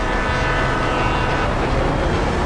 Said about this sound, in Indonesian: Hampir aku ditabrak kereta